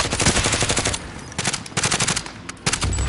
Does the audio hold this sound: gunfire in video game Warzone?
yes